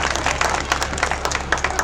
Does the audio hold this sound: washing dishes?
no